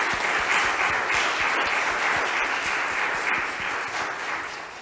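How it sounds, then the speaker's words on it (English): A dense, loud round of applause from a large audience fills the room continuously, a thick wash of clapping that eases only slightly toward the end. "So I would like to give these courageous people a round of applause."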